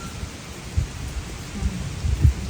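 A night thunderstorm at an old mill, with steady heavy rain and low rumbling thunder in dull swells, broad and enveloping with no voices.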